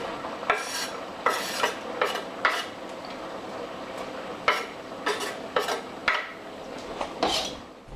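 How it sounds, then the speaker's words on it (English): Onions stirred into a pan with browning meat for Italian gravy, soft sizzling beneath repeated scraping strokes of a utensil against the pan, irregular and close. "We throw our onions in here."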